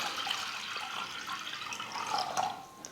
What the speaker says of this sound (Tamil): தண்ணி தேவையான அளவுக்கு சேர்த்துக்கிறேன்